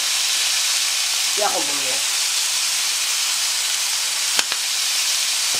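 Gulas sizzling in a frying pan with a drop of oil, a constant loud hiss with a brief clink of a utensil near the end; a voice speaks briefly.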